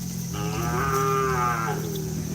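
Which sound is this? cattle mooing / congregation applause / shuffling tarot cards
cattle mooing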